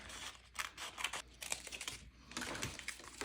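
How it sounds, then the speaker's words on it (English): Scissors cut a strip of paper from an old book for a junk journal, a run of close, dry, crisp snips and rustles of the paper, steady and unbroken, with no one speaking. "I'm just going to cut a strip and see if it's something I want on there"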